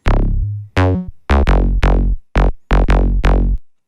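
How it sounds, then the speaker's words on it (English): Short, punchy acid synth plucks with a squelchy, bright attack and quick decay, about eight notes in an uneven bouncy rhythm, loud and isolated. "we have this little acid wub"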